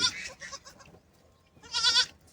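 Baby goats kept in a cage bleat nearby: one bleat, a short lull, then a second, louder and higher cry, with faint background rustle.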